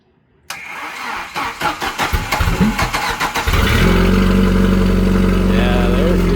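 A Jeep YJ Wrangler engine cranks with a rapid, uneven starter chug for about three seconds, then catches and settles into a loud, steady, close-up idle rumble.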